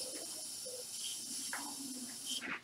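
A Lysol aerosol disinfectant can in a lecture room sprays a long steady hiss, faint and somewhat distant, with small knocks and shuffles around it.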